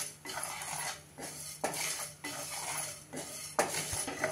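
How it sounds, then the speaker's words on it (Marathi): Coriander seeds and cumin dry roasting in a pan with no oil, giving a steady sizzling rustle broken by several sharp scrapes and clinks of a spatula stirring against the metal, close and fairly quiet. "आधी धने भाजून घेतले आणि आता त्याच्यावर आपण जिरं घालतोय"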